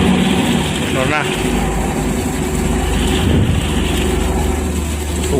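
A large ship's engine drones in a steady low rumble throughout, with people talking over it.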